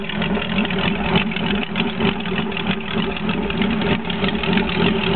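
2008 Corvette LS3 V8 running on an engine test stand, a loud steady idle drone with slight rhythmic pulsing and no voices.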